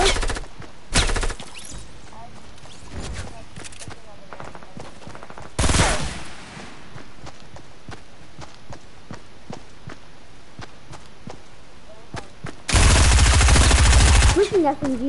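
Suppressed AR and SMG fire in a shooter video game comes as a few loud, rapid bursts, one brief, one near the middle and a longer one near the end, amid quieter footsteps and clatter.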